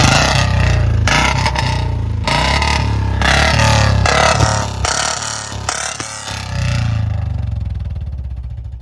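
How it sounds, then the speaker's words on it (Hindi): Royal Enfield Bullet BS6 with a C-band pipe exhaust letting out loud, close backfire pops in rapid bursts over a deep idling engine rumble, the bursts separated by short pauses. "पटाखे चारों बाइकों के चारों बुलेट के टेस्ट कर लिए"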